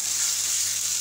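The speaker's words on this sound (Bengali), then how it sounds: "মশলাটা ভালো করে কষিয়ে নিচ্ছি" Spice paste of ground poppy seed and sesame frying in a pan, a steady close hiss of sizzling oil throughout with no pauses.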